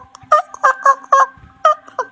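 A human voice imitates a rooster crowing with a string of short, loud, nasal honking calls in quick uneven succession, close and alone.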